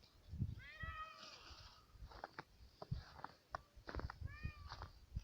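Several cats meow repeatedly, high rising cries coming from nearby, mixed with soft rustling and tapping sounds.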